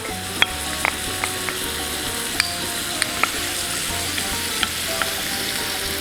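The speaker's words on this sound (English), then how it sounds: "we'll add in our shrimp. And we'll add in the garlic." Shrimp and garlic sizzle steadily in a pan over medium heat, a close, continuous frying hiss broken by occasional sharp utensil clicks and taps.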